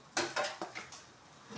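A supercharged Mini engine being lowered into a car's engine bay, metal scraping and clanking in four or five sharp, close knocks that fade into quieter rubbing.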